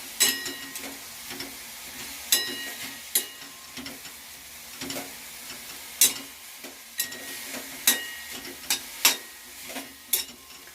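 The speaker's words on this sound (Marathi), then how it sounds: "आता भाजी पहिल्यांदा कोरडी परतायची आहे तव्यामध्ये किंवा कढईमध्ये" Tandulja greens dry-roasted in a kadhai with no oil, stirred with a utensil: a soft crackling hiss with regular light scraping taps against the pan, about one each second, close and moderate in level.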